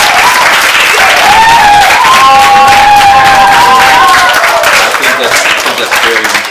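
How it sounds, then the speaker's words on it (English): A children's choir audience at Summerwood Elementary gives a loud, sustained round of applause and cheering that fades toward the end, with voices rising over the clapping. "Give yourselves a round of applause"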